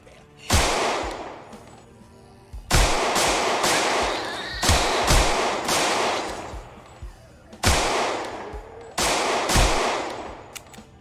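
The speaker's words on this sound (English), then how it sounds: "Shotgun's coming out" Shotgun blasts in Project Zomboid, five loud booming shots spaced a second or two apart, each with a long decaying tail, plus some faint extra pops in between.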